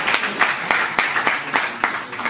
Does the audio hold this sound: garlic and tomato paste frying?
no